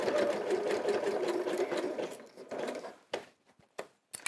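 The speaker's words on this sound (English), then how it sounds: "sew across that binding, keeping this nice and tight at this stage" A sewing machine runs a continuous line of stitches across quilt binding, then slows into a few short separate bursts and clicks before stopping.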